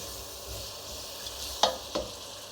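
Sliced onions fry in a hot pot for a vegetable stew, a soft steady sizzle with two brief sharp clinks of a utensil near the end, close and fairly quiet.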